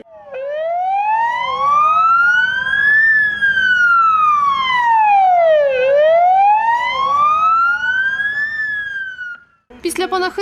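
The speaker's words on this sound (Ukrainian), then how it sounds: "працівники швидкої в останнє вімкнули для нього сирени автівок" A loud wailing ambulance siren sweeps slowly up and down in long rising and falling cycles, close by, then cuts off abruptly.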